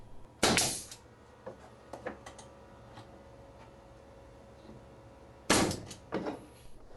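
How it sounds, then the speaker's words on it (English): Brick molding nailed to the framing members of an exterior entry door, two sharp loud hammer-like impacts several seconds apart, each followed by a couple of smaller knocks, with quiet room tone between. "Nail the brick molding to the framing members."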